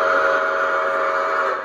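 A sound-unit steam whistle on a model steam locomotive blows as one loud, sustained tone with no break for its full length and no voices.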